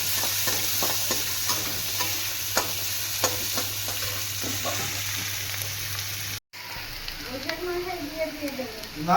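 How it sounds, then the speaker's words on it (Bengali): Chopped onions sizzle steadily in hot oil in a pan, a loud continuous frying hiss with stirring scrapes; after a brief cut a voice speaks over the sizzle. "এবারে দিয়ে দেবো কুচিয়ে রাখা পেঁয়াজ সব কিছু একসঙ্গে একটু হালকা লাল করে ভেজে নেবো"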